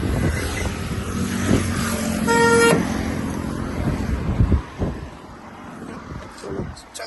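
Heavy road traffic during a festival holiday in a village area: a steady roar of engines with a long car horn blast in the middle and further scattered honks, loud and close throughout.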